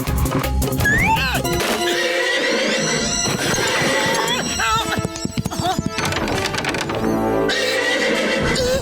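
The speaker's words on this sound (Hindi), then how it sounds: "वो देखो, घोड़ा खुला घूम रहा है" Cartoon horse whinnying loudly several times as a wandering, loose animal, with rising-and-falling squeals over busy animated music and effects, plus a few clattering hoof-like thumps and hits.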